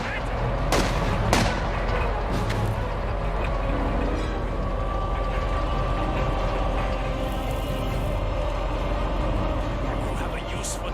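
Dense war-game combat din of gunfire and artillery, with a sharp loud burst near the start over a steady, continuous roar of battle noise and mechanical clatter throughout.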